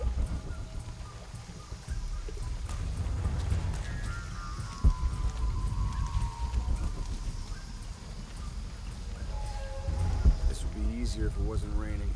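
Steady rain falls in the video game Shadow of the Tomb Raider, a continuous wet hiss under game sounds, with voices talking over it throughout.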